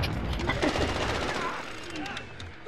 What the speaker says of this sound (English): I shot through you and I got the kill.